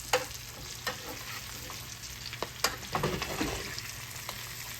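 Two trout sauté in butter in a pan while being basted, giving a steady, fairly quiet sizzle with scattered soft clicks and scrapes of the utensil, and a busier crackle toward the end.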